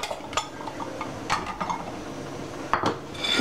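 Plates and dishes clink and clatter as they are handled while plating Thai steamed sea bass with lime, several sharp knocks scattered over soft rustling, nearby and without speech.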